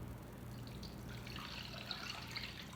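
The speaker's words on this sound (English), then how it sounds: "now you just pour this in here." Liquid pours into a glass while a drink is mixed at home, a steady soft trickle that grows brighter and splashier toward the end, close and fairly quiet with no talking.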